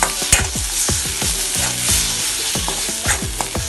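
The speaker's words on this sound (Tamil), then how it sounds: "அதையும் சேர்த்து நல்லா இப்படி தட்டி விட்டு நீங்கள் நல்லா வதக்கிக்கிட்டிங்கன்னா" Fish eggs sautéing in masala in a pan give a loud, close sizzle, with repeated quick scraping and tapping strokes of a spatula breaking them up and no speech.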